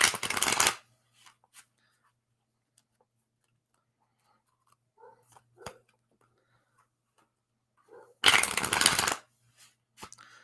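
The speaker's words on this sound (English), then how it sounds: "Shuffling up the cards here." Playing cards are shuffled in two short, crisp riffling bursts at the start and near the end, with faint small clicks and handling noises in the quiet stretch between.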